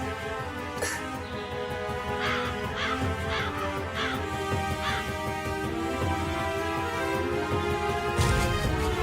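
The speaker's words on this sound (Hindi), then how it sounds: "ये क्या एप्पल के पीछे कौवा भाग रहा है?" A crow caws repeatedly in a Hindi TV drama scene, several harsh calls in quick succession, fairly close, over a steady musical background that swells near the end.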